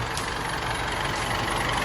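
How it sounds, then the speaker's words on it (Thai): A lifted diesel pickup truck on 16-inch wheels sits idling with a steady, even engine rumble and hiss, close by and without talk. "เครื่องยนต์นิ่งๆเลยนะครับ"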